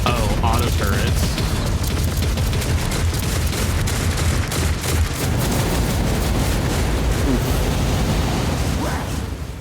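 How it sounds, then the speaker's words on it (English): Auto turrets open fire in Warhammer 40,000: Rogue Trader, a continuous barrage of heavy booming shots and mechanical clatter that stays loud and dense throughout. "Oh, auto turrets."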